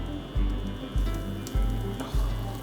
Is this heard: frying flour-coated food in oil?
yes